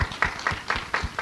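Rhythmic hand clapping from an audience at a social-mobilization event in Brazil, about six evenly spaced claps, fairly faint and sparse rather than a full ovation.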